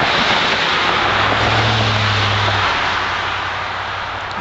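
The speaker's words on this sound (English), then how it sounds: "apologize for the traffic" Road traffic passing close by, a broad steady roar with a low engine hum that swells and then fades as a vehicle goes past, near and fairly loud.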